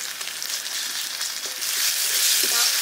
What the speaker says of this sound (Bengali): এটা অল্প তেলে রান্না করবো